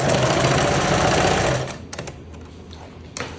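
Sewing machine finishing a seam on a striped shirt, a loud rapid continuous stitching run that stops abruptly, followed by a few soft clicks and handling sounds nearby.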